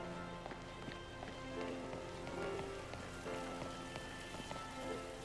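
Steady rain falling in Paldea in Pokémon Violet, a constant game-ambience hiss of drops on surfaces, moderately loud and even throughout, with faint background tones and no talk.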